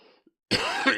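A man with a lingering cough lets out a short, harsh coughing burst after a brief near-silence, loud and close to the microphone.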